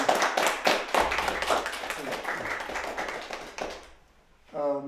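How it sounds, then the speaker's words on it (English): Students clapping together at a Nigerian folk stories and music session, a dense burst of handclaps with busy voices mixed in, tapering off near the end before a brief tonal sound. "we can clap again so that you all understand that we enjoyed"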